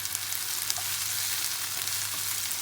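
Four or five curry leaves frying in oil for pepper chicken gravy, a steady, dense, close sizzle throughout with faint crackles and no talk.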